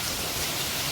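Steady rain falling in a village, a dense even hiss of drops with no pauses, close and moderately loud.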